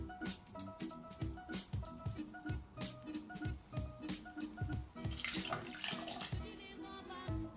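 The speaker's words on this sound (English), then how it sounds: "now let's put the ingredients into the shaker" Blue Curacao poured into a cocktail shaker tin gives a steady liquid pour that swells midway, partly masked by rhythmic background music.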